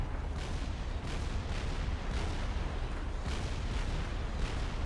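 Unit artillery keeps firing in the strategy game Supreme Commander, a dense, continuous barrage of booming shots with repeated sharp bursts over a heavy low rumble, loud and steady throughout.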